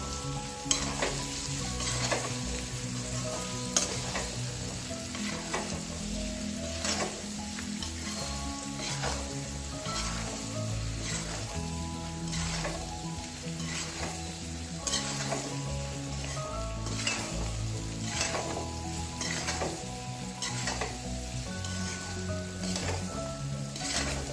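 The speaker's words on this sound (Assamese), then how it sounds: "এতিয়া এইখিনি মই ভালকৈ লৰাই ল'ম।" Jackfruit pickle being stirred in a frying pan after salt is added, a continuous sizzle with steady rhythmic scraping and clinking of a spoon against the pan, close and even throughout.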